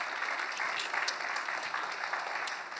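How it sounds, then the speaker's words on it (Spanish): Church congregation applauding during a Spanish-language sermon, a dense, steady wash of many hands clapping that fills the room evenly for the whole stretch. "dale un aplauso al Señor"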